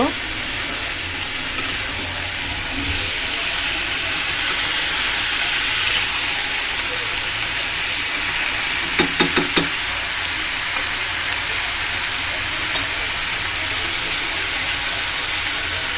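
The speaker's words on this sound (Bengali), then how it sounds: "ধন্দুলটা দিয়ে দিয়েছি, আমি একটু নেড়ে দিচ্ছি।" Sponge gourd with prawns and potato stir-frying in a pan, giving a loud continuous sizzle and hiss close by, with a brief run of scraping stirs partway through and no talking.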